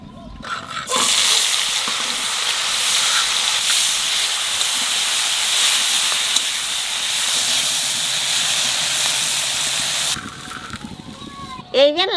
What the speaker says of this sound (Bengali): চিংড়ি মাছ কটা একটু ভাজিয়ে নেব।